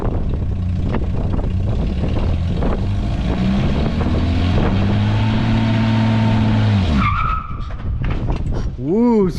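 A Chevrolet S10 pickup truck revs its engine and then its tires squeal in a rising, wavering whine for several seconds. The burnout is loud and close, and people shout and cheer over it.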